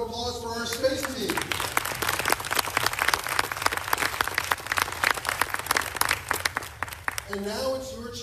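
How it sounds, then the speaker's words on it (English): Audience applause for the space team at the unveiling of Canada's Space Strategy, steady dense clapping lasting several seconds between stretches of talk at the start and end. "Big round of applause for our space team."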